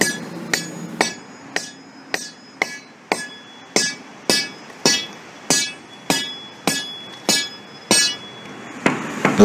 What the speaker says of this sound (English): This is a delaminated area being sounded with the sounding rod.